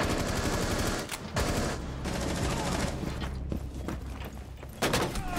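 Dense, rapid gunfire from a Rainbow Six Siege match, loud and continuous bursts of shots with brief gaps, mechanical clatter mixed in and a voice faintly present underneath.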